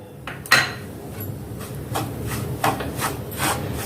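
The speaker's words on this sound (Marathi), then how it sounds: "आणि आता हा रवा आपण असा छान खमंग भाजून घेणार आहोत" Semolina (rava) roasting in ghee in a pan is scraped and stirred by a spoon, giving soft rhythmic rubbing and rasping strokes with a few sharper knocks, close and fairly quiet.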